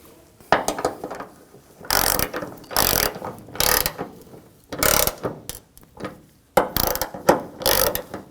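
A ratchet spins nuts onto a hood hinge on a 2014–2020 Nissan Rogue, with bursts of close, loud clicking separated by short pauses as the nuts are run down.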